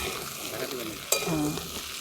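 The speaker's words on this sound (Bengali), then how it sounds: "সবজিগুলোই আমি দিয়ে দিচ্ছি। এই ফুলকপি, গাজর, বিন আর এই যে মিষ্টি আলু।" Cauliflower, carrot, beans and sweet potato drop into a hot pan for village-style frying, making a brief sharp splash followed by a soft, steady sizzle.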